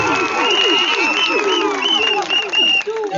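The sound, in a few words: loud applause at wedding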